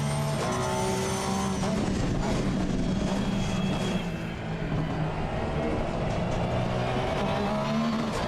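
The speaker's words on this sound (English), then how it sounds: "This Porsche is so nice to drive, bro" A Porsche race car in a sim racing game drones steadily with sustained engine tone and shifting pitch, loud and continuous throughout with no talk over it.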